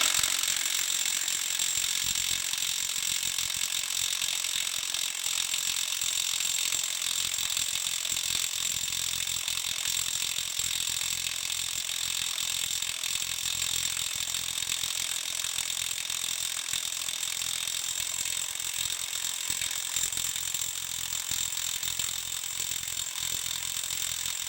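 A knockoff Milwaukee impact wrench hammers steadily at a semi truck lug nut, a dense continuous rattling chatter that runs close and loud for the whole stretch with no pauses and no voices.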